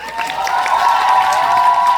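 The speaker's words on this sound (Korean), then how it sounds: "조금 더 큰 박수 부탁드리겠습니다" An audience claps and cheers during a curtain-call stage greeting after the final performance of a musical, a brief burst of applause with raised voices mixed in.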